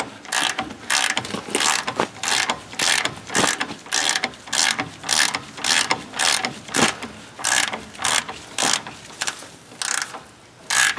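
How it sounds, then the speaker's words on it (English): A ratchet and socket turn a nut on a bolt during F-250 wheel bearing work, giving rapid, close, loud clicking strokes in a repeating back-and-forth rhythm for the whole stretch. "This is a ratchet. This is a socket."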